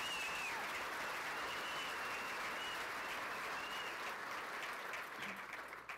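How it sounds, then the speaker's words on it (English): Sustained applause from a large audience at a political rally in Calgary, a dense wash of clapping that stays steady for several seconds before thinning slightly at the end. "give yourselves a round of applause"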